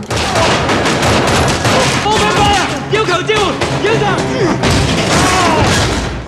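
A gunfire shootout in a police action film: dense, loud bursts of shots and booms fire back and forth throughout, mixed with shouting voices and other film sound.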